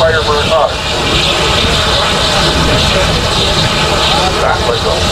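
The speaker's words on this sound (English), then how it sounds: "It's blowing steam up the smokestack to create a vacuum in the smoke box and pull air through the fire to make the fire burn hot." A classic steam traction engine blasts steam up its smokestack in a loud, continuous roaring rush with no pauses and nothing else heard.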